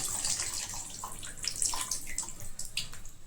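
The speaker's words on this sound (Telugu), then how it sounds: "ఇంకా కొద్దిగా పులుసు వాటర్ పోసుకొని" Water is poured in a steady, splashing stream into a pot of fish curry made with tamarind broth, close and continuous with no talk.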